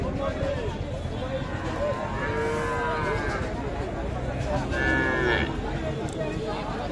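Young heifer calves at a cattle market moo several times, long calls rising over a steady crowd of talking people and general market bustle.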